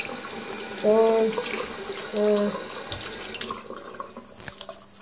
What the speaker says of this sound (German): Bitte mit kaltem Wasser.